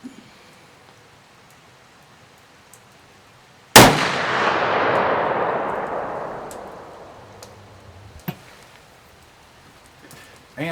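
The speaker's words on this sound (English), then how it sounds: "I'm going to shoot the top target at 100 yards" A single loud, sharp muzzleloader shot from a CVA Scout V2 loaded with smokeless powder cracks at an outdoor bench range, followed by a long fading outdoor echo. Fainter distant bangs come later, and the background is otherwise quiet.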